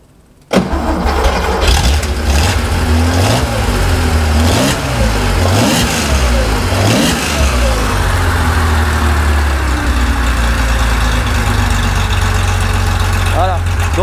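A car engine fitted with a 123 ignition cranks and fires abruptly, then settles into a loud, close, steady idle with a few revs early on.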